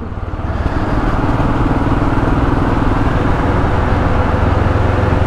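Motorcycle engine idling steadily, a loud close rumble with an even rapid beat that holds throughout without talk, recorded as a ticking-over intro.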